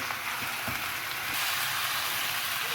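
Chicken pieces with added tomatoes sizzle and fry loudly in a pot, with soft scraping and stirring sounds of mixing throughout, close and continuous.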